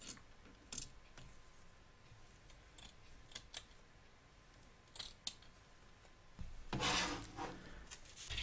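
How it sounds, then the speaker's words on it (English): Scissors snip through excess fabric on a soft toy bunny, a few scattered crisp cuts and rustles, quiet and close, with one longer burst of rubbing near the end. "we're going to trim along here to remove the excess"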